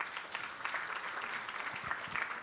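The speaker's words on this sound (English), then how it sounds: "we need to give them a special round of applause." Audience applause at a panel discussion or book event, a steady wash of many hands clapping at moderate, slightly distant level, with faint voices underneath.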